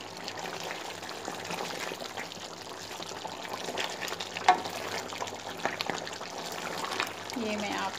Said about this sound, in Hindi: स्लोली स्लोली इसको मिक्स करते जाएंगे।